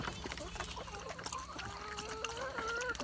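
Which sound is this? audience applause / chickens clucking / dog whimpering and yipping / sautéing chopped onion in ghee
chickens clucking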